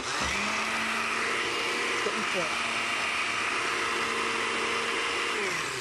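A kitchen blender runs continuously at a steady high whirr, loud and close, with a brief change in pitch midway as the contents shift.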